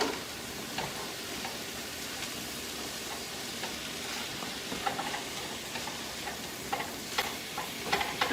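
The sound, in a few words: mushrooms sautéing in a pan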